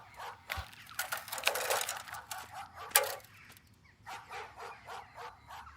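A dog in a rural Tirunelveli village barks in a long run of regular, evenly spaced barks, fairly close and steady, after a burst of louder rustling and crackling noise.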